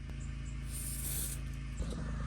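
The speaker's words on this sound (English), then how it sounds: "find a good hole in the frame rail and slide it through and spray it" Rust-proofing wax is sprayed through a wand inside a Toyota 4Runner frame rail, producing a quiet, steady hiss that swells briefly in the middle.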